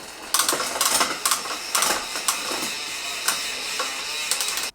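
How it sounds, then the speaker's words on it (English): Pedals being threaded and tightened onto a Yeti SB130 mountain bike, a close run of sharp ratcheting clicks and mechanical ticks in irregular bursts, fairly loud with no voices. "I'm gonna go ahead and put some pedals on this bike"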